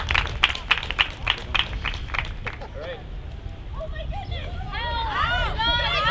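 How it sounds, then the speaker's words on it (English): An audience gives a brisk run of clapping for a university campus response team at an emergency simulation, the claps fading after a couple of seconds into murmuring voices and chatter. "Let's welcome with a big round of applause the University of Waterloo Campus Response Team responders"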